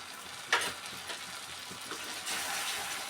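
Tomato puree poured into a pan of egg tomato curry, a close, soft sizzle and frying hiss with a few stirring scrapes and clatters, building into a steadier sizzle near the end.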